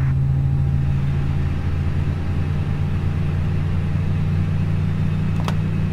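A jet airliner engine hums steadily in a flight simulator after startup, a continuous low drone with a faint click near the end and no talking.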